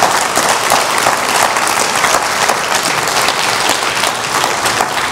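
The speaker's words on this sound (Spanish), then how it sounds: "Dale un aplauso al Señor" Church congregation applauding during a Spanish-language sermon, a loud, sustained wash of clapping from many hands that holds steady throughout with no speech over it.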